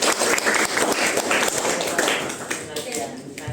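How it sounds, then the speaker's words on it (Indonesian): A classroom of students claps briefly after a presentation, a short burst of close, uneven hand claps with a voice speaking over it as the clapping tapers. "Beri tepuk tangan dulu."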